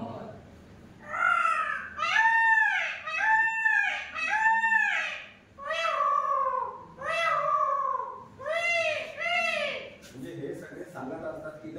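A human voice imitates the call of a peacock, India's national bird, at a school awareness program in Moharli, giving about eight loud, wailing calls in a steady series with short gaps between them.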